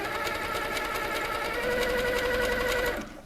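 A Handi Quilter Sweet Sixteen longarm quilting machine stitches steadily at close range with a rapid, even mechanical hum and clatter, running continuously before cutting off abruptly near the end.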